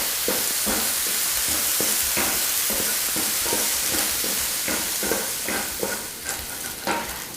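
Bacon renders over medium-low heat in a pan, a loud close sizzle with regular scraping stirs as the strips are kept moving.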